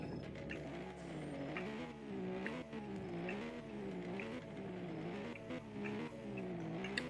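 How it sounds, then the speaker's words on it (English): An Aston Martin Vantage engine revs in a video game, its tone rising and falling in repeated swells, with a steady low idle rumble underneath and the pitch climbing and dropping several times. "let's rev this thing up real quick."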